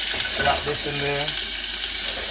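Food frying in warm coconut oil gives a constant loud sizzle and crackle, with a short tonal squeak of utensil or steam near the start.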